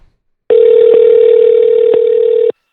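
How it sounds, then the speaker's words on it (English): A telephone ringback tone plays while an outgoing call connects: a single steady, loud electronic tone of about two seconds, alone with no talking over it. "It's always interesting, the ringtone."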